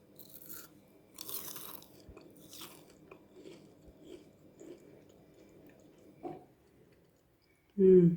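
Crunchy homemade fries are bitten and chewed in a few crisp crunches followed by softer chewing, close and fairly quiet, ending in a louder burst of noise.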